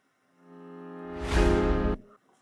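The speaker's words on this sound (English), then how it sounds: "The break starts directly with this piano thing." A piano part from the break of a chill house remix, made with a basic true-piano preset, swells in as a sustained, layered chord. It grows brighter and louder over a second and a half, then cuts off abruptly.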